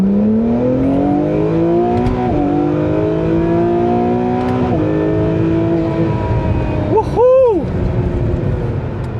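Acura NSX Type-S engine pulling hard under acceleration, a loud, steady rising exhaust note over about nine seconds with a brief dip mid-run as it shifts gears, and a short burst of higher tones near the end.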